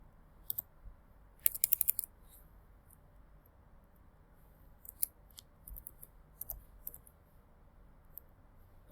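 Faint, sparse clicks of a computer keyboard as a short word is typed, small irregular taps scattered over a quiet background with no talking.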